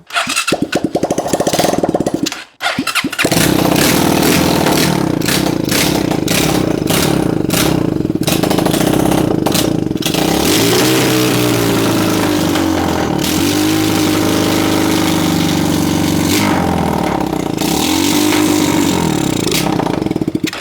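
A rebuilt Chinese 250cc motorcycle engine, a Honda clone, cranks with a brief dropout, then fires and runs loudly, clattering and revving up and down close by.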